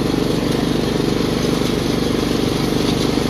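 A Craftsman lawn tractor engine drones steadily at close range as the mower drives along, a continuous low, throbbing hum with no breaks.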